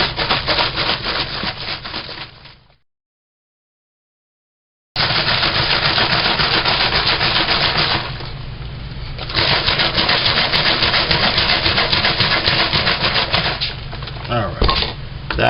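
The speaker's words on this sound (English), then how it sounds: "And now we will mix everything up thoroughly" Sugar and yeast being stirred vigorously for wine making, a loud continuous scraping and rubbing with rapid gritty texture, cut by a two-second silence and a softer stretch before the mixing resumes.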